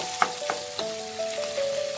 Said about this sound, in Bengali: তো আমি এই ডিমটাকে এখন একটু হাই ফ্লেমে একটু ভাজা করব।